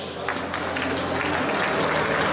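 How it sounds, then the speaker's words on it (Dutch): An audience at a kickboxing fight night applauds two fighters after the final round, a dense, steady wash of clapping from a crowd, close and sustained, with a voice faintly underneath. "mag ik een applaus voor deze twee strijders"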